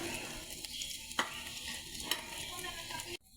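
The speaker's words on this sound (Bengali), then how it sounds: "আমাদের মরিচ, পেঁয়াজ, রসুন ভাজি করা প্রায় হয়ে গেছে।" Chilies, onions and garlic fry in a pan with a steady, close sizzle, broken by a couple of sharp stirring scrapes before the sound cuts off abruptly.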